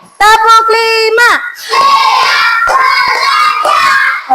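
A class of fourth-grade children claps in a patterned chant-and-clap routine, with a loud burst of clapping mixed with shouting young voices after a teacher's call.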